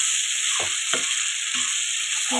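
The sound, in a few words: prawns frying and stirred in pan for biryani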